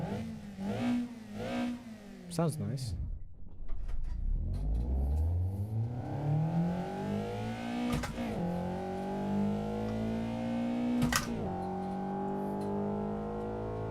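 A mid-engine sports car in a racing video game revs repeatedly, rising and falling in pitch with sharp gear-shift pops; a voice briefly comments near the start.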